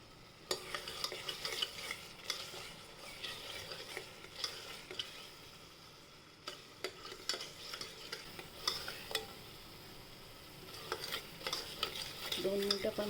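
Rajma masala with red chilli powder and turmeric sautéed in oil in a pan, a spoon scraping and stirring in repeated strokes over a soft, steady sizzle, fairly close with no voices.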